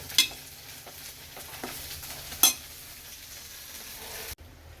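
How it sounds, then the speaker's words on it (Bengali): Okra (bhendi) frying in a pan, a low steady sizzle with occasional louder stirring clicks and scrapes, ending abruptly. "এদিকে হচ্ছে ভেন্ডি ভাজা"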